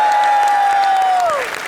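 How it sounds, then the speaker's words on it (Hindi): Studio audience at a live Indian comedy show applauding steadily, with a thin sustained whistle-like tone above the clapping that bends downward at the end as the applause starts to fade. "ऑडियंस जोरदार तालियां हो जाए यार इनके लिए।"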